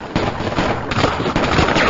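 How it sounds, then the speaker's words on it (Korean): Gunfire in a 1950 Seoul hospital corridor: a loud, dense, rapid rattle of overlapping shots with sharp bursts, continuous throughout and close. "총성과 함께 피가 튀었다"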